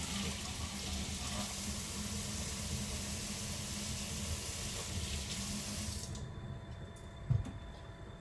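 A kitchen tap runs steadily for rinsing, a loud even rush of water that stops abruptly near the end, followed by a couple of faint knocks.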